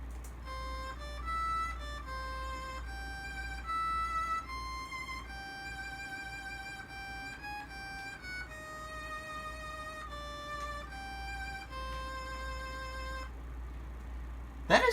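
Unused third version of a song from the Link's Awakening video game: a plucky chiptune melody of bright stepped tones over a steady low hum, playing continuously for the whole stretch with no voices.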